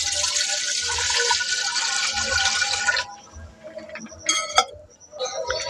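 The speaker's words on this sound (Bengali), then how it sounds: "এবার এর মধ্যে জলটা দিয়ে দিচ্ছি" Water is poured steadily into a pot on a lit stove for about three seconds, then the vessel is set down with a few clinks and light splashes.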